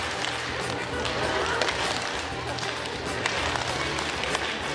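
A training group clapping hands together in an exercise, a dense, steady patter of claps mixed with shuffling and an instructor's voice.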